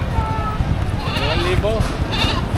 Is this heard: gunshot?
no